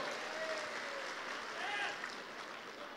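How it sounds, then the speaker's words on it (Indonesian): A seminar audience in Indonesia claps together in a steady, moderately loud round of applause, with faint tonal sounds drifting over the clapping. "Tepuk tangan untuk PT BES."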